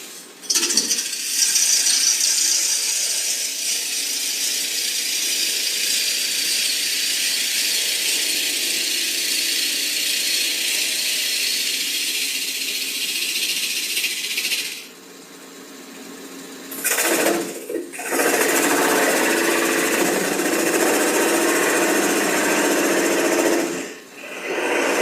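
A wood lathe turns a bowl while a tool cuts the spinning wood, giving a loud, steady high-pitched scraping whir. The cutting breaks off briefly near fifteen and seventeen seconds and again near twenty-four seconds.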